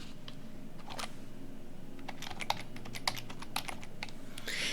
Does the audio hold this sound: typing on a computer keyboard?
yes